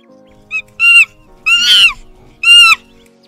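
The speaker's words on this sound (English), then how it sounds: "Chimpanzee." A chimpanzee calls in a short series of four hooting, harmonic bursts, the longest one in the middle, loud and close with quiet pauses between them.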